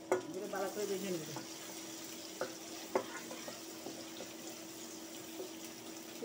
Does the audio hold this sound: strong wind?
no